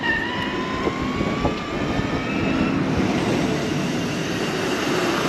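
Wind blowing hard outdoors on a cold day after a thaw, a steady loud broadband rush with low rumbling gusts continuing throughout, no voices.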